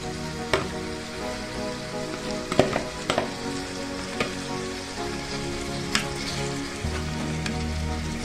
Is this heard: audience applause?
no